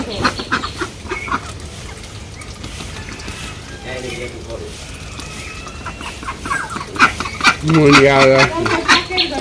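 A hen clucks loudly in repeated bursts, growing more insistent toward the end, with other fowl calls and a voice in the background.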